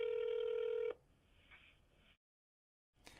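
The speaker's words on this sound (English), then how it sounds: "do I have my phone here? Let's see if we can call this guy." A phone call being placed: a steady electronic dial tone plays for about a second, then quieter line noise and a faint tone follow, a silent gap, and a brief burst of line sound at the end.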